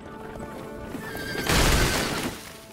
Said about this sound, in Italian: Il fantasma di Ponty Pandy Pete ha spaventato un cavallo e ora sta trasportando un carro a tutta velocità con dei passeggeri a bordo